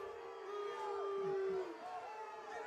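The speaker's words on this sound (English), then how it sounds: "Crowd's not liking this one, Bryce." Unhappy home crowd at a high school football playoff game, a steady murmuring roar with some raised voices and whistles, swelling briefly in the middle before settling back.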